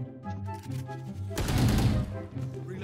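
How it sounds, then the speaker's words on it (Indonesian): A teammate fires a rapid burst of gunfire into a wall in the tactical shooter Valorant, a loud half-second rattle of shots cutting through game music and ambient sound. "Ini teman nembak temboknya sendiri."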